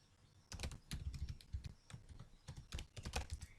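Rapid typing on a computer keyboard while writing code, a close, irregular patter of clicking keystrokes in quick bursts with no speech.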